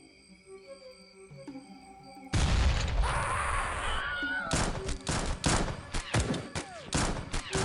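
Burst of gunfire and booms in the XPiratez strategy game as a firing line opens up: a loud blast followed by a rapid volley of sharp shots and cracks, after a quieter stretch with tonal game sounds.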